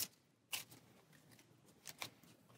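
Playing cards shuffled during a tabletop deck-building card game, heard as a few brief, quiet riffling bursts spaced apart, close by and otherwise fairly hushed.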